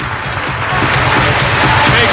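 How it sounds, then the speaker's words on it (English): Applause at a squash tournament award function breaks out for a professional-category winner, a dense wash of many hands clapping that swells and grows louder, with crowd murmur and voices underneath. "Big round of applause."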